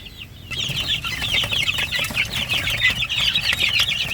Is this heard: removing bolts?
no